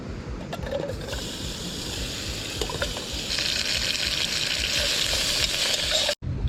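Peanut oil sizzling in a pan over a camp stove at a forest campsite, a steady crackling fry that grows louder partway through and cuts out briefly near the end.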